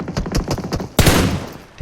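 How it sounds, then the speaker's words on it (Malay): Rapid gunfire bursts in a competitive PlayStation shooter match, a string of short cracks followed by a louder, denser volley about a second in, loud and close with no speech. "Tembakan akan dilepaskan secara langsung"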